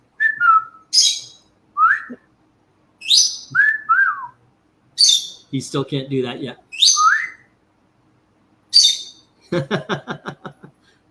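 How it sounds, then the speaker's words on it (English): A small pet bird kept indoors chirps and whistles in repeated short bursts, some rising and falling, close and clear, with a person speaking briefly between the calls. "I love that little bird."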